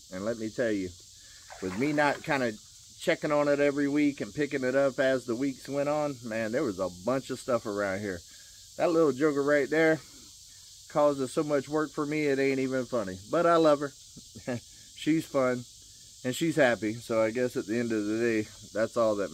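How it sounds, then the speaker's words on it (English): Cicadas drone in a thin, continuous high whine on a morning at an off-grid log cabin homestead, faint and steady beneath someone talking throughout. "You can hear the cicadas going off this morning"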